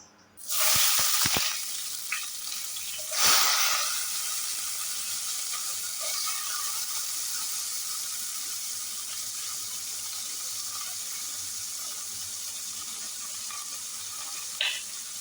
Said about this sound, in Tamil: இப்போ நம்ம கட் பண்ணி வச்சுருக்க வெங்காயத்தை போட்டுக்கலாம்